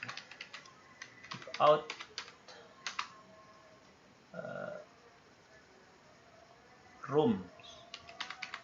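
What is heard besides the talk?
typing a search into Google on a keyboard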